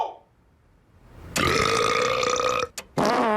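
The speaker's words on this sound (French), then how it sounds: "Un gros rot après avoir bu toute une canne de liqueur" A big, loud burp after drinking a whole can of soda, a long rasping belch that cuts off abruptly and is followed by a couple of short throaty bursts.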